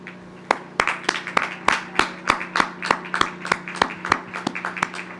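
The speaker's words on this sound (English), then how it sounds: "let's give them a big round of applause" A commencement ceremony audience applauds with steady, rhythmic clapping that builds into a sustained round of applause over a low hum.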